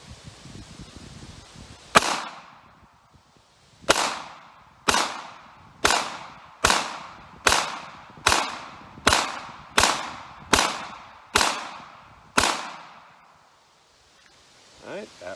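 Ruger LCP Max .380 ACP pistol firing a 12-round magazine of Carbon City ammunition: eleven sharp, loud shots, the first few spaced out, then a quicker even string, with low voices before and a faint rustle at the end.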